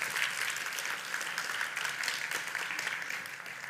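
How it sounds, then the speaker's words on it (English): Steady crowd applause for a speaker at a Devcon SEA conference stage, moderately loud, even clapping throughout with no talk. "Let's give a hand of applause for Mark."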